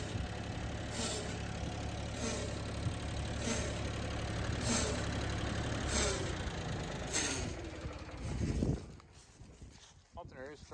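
A Ford 2600 tractor's engine idles with a steady low, knocking rumble and regular pulses before it dies away near the end, leaving faint clicks and quiet.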